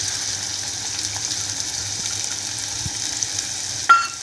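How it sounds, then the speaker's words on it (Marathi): Onion frying in plenty of oil over high heat for bhendicha thecha, a steady hissing sizzle throughout with a brief louder clatter near the end; no talking. "कांदा छान लाल रंगावर परतून घ्यायचा आहे आपल्याला मोठ्या गॅसवर"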